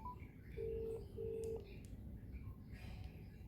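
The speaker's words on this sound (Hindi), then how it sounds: "अब हम नितिन को फ़ोन कर रहे हैं" A phone on speaker is dialed with several short, clean keypad tones, two held beeps in quick succession and softer blips after, quiet against low room noise.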